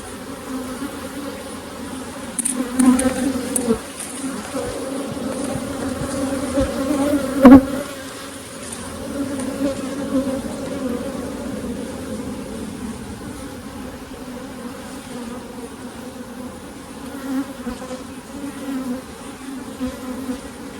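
Agitated honey bees buzzing around an opened hive during an inspection and requeening, a dense, continuous drone of many insects close by that swells briefly with a few louder passes.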